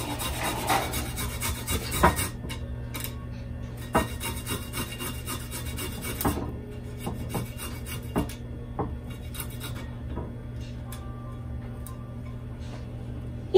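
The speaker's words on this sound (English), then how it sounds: "I'll grate the garlic." Garlic rubbed across a kitchen grater gives a rough, scraping rasp in short irregular strokes, close and fairly loud, with faint ticking between passes and no talk.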